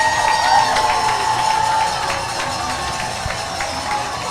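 A crowd at a marathon trials watch party cheers and claps continuously, loud at first and easing slightly, with scattered shouts and whoops mixed in.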